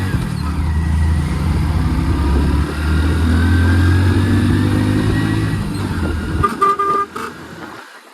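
Steady drone of a car engine and road noise while driving with three passengers, continuous and close, before it drops out near the end into a few short horn-like tones.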